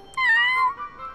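A cartoon cat gives a single clear, high meow that rises and then trails off, close and alone, with no talking over it.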